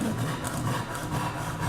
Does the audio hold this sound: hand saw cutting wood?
yes